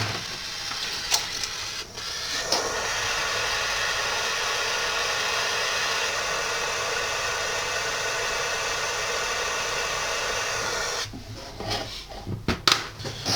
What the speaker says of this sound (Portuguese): Maçarico Orca, bico pequeno.